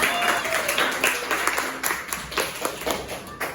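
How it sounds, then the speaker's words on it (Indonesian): Classroom applause as a class of sixth-grade students claps together after a science lesson, a dense burst of clapping that continues steadily and fairly close, with faint voices mixed in. "Tepuk tangan untuk kita semua."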